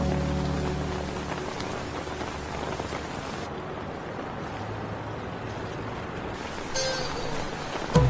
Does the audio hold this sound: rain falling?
yes